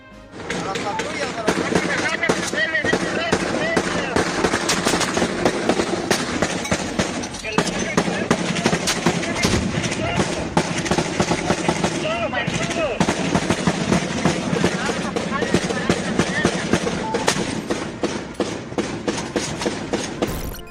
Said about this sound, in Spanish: El sonido de los disparos y las explosiones demuestran el poder ofensivo del cártel.